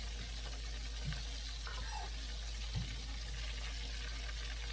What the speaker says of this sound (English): For safetyness, you can let them fry for another minute or so.